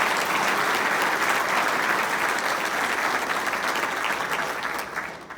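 Sustained applause from the audience at a city State of the City event honouring the city councillors: dense, steady clapping throughout, fading slightly at the very end, with no talk over it.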